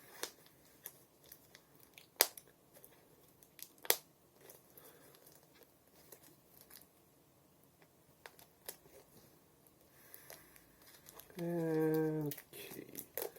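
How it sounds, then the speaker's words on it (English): Small kitty scissors snipping through vinyl record packaging, scattered light crinkles and clicks followed by a brief run of quick close cuts near the end, quiet and unaccompanied. "That's why I'm using kitty scissors."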